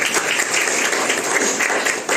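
Audience applause at a village meeting, a dense continuous burst of many hands clapping together, loud and close throughout, with no talk over it.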